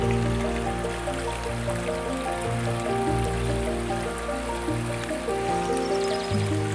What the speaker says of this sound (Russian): Или это что, талые воды, что ли, сходят? Или все-таки чуть выше имеется какой-то родник?